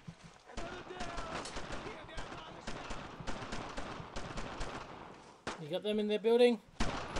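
Rapid gunfire rattles through a Brothers in Arms firefight, with continuous bursts of shots near and far, while a player speaks over the shooting.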